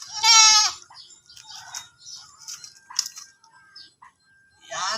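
A goat in Oriental Mindoro bleats loudly and tremulously while being weighed, one long call at the start and another at the end, with handling noises and faint scattered sounds between.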